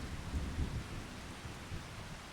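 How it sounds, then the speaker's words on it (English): Rain falls in the video game Farming Simulator 25, a dense, steady hiss of downpour with low rumbling swells like distant thunder, heard alone. "The rain sounds kind of relaxing."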